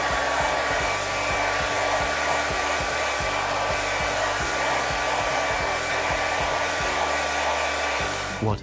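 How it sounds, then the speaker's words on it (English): A household hair dryer blows steadily at close range, a loud constant airy roar with a whining motor tone that runs unbroken throughout before cutting off at the very end. "It's a hairdryer."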